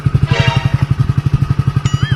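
A motorcycle engine idles close by in a rhythmic, low, evenly spaced thumping that stays steady throughout, with a brief faint higher whine near the end.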